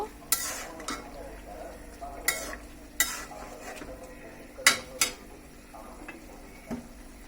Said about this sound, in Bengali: এখন আমরা এটাকে ভালোভাবে মিশিয়ে দিব।